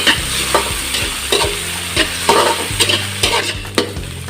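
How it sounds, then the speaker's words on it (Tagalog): Green peas and mixed vegetables stir-fried for Ilocano-style homemade fried rice, with a steady close sizzle broken by repeated rhythmic scrapes and tosses of the spatula in the pan. "Lagyan na rin po natin itong ating green peas. So, stir fry lang natin ito mga kailyan, mga 3 minutes."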